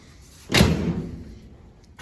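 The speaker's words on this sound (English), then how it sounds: "Door still closes good." A door on a 1929 Ford Model A shuts with a single solid thud, close and fairly loud, then a short fade into quiet.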